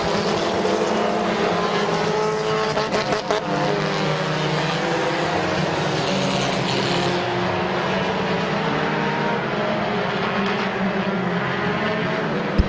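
Compact race cars roar around Midvale Speedway, a loud, sustained engine drone with shifting pitch as cars pass close by, layered and continuous, with a brief clatter early on and a slight fade near the end.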